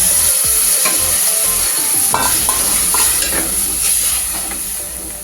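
Tamarind pulp being stirred into a frying masala for Andhra-style fish curry: a steady, close sizzle with scraping stirs and a few clinks of a spoon against the pan, with no talking.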